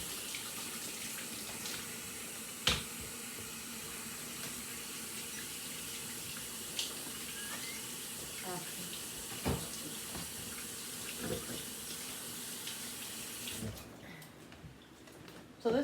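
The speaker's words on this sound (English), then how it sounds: "let me wash my hands again" Kitchen tap running while hands are washed under it at home: a soft, steady hiss of flowing water with occasional clunks and splashes, cutting off near the end.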